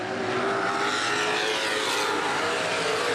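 Open wheel modified race cars roaring down the back straightaway at Baer Field Speedway in 2011, a dense, continuous loud engine drone from several cars racing together.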